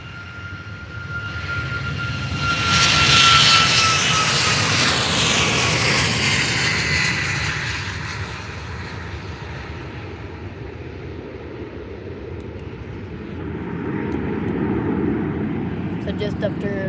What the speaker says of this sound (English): So here goes now taking off a Ryanair 737 MAX, a MAX 8, off to Kerry.